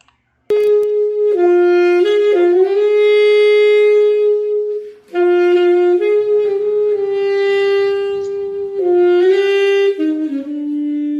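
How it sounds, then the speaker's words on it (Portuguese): A saxophone plays a sustained melody alone, loud and close, with a brief pause midway before the tune continues. "Som emitido pelo saxofone."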